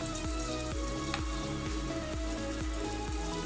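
Sugeeno batter frying in hot oil, a steady dense crackling sizzle with a soft rhythmic bubbling pulse throughout, close and continuous with no voices.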